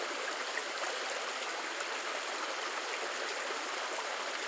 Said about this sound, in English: Me dipping this in the water to wash it off